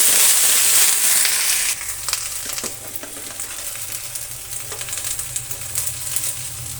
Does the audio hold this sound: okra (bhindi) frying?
yes